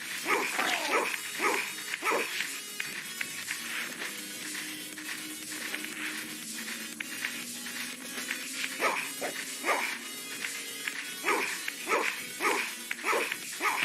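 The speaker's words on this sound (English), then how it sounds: "These freaking dogs." Dogs bark repeatedly in a video game set in a dark outdoor area, sharp bursts coming in clusters over a steady buzzing insect-like ambience, with only faint talk.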